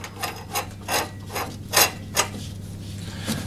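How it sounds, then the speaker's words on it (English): A half-inch ratchet with a 16mm socket tightens a lawn mower blade bolt on a self-propelled petrol mower, giving about eight loud, close rasping clicks in uneven strokes over a low steady hum. "16mm socket on a half inch ratchet"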